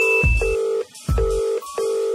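Phone call tones: a steady electronic ringback tone pulses in three repeated bursts with short gaps, each beginning with a low thump, clear and close with no talk.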